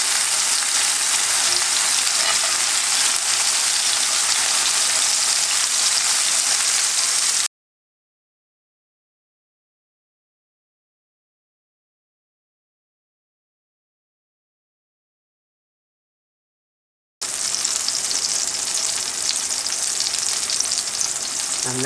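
Tomatoes fry in a hot pan with loud, continuous sizzling and splattering up close. The sound runs unbroken for several seconds, cuts to silence, then resumes just as loud, with no talking.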